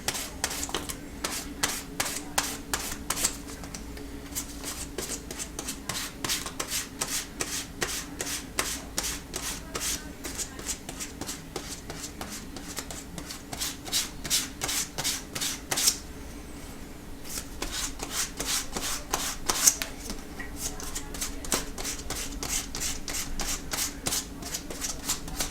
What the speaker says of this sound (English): And then take the finer grit sandpaper and then all in one direction.